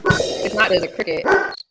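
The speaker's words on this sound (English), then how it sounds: "And that's my dog." A dog barks several times in short, sharp bursts close by during a livestream, mixed in with someone talking over it.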